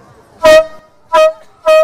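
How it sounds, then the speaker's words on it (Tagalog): Three loud, separate honks from a large pump-action air horn at New Year, each a bright harmonic blast about a quarter second long, with short silent gaps between them. "meron din daw sila ng giant air horn na tulad nito na binobomba lang"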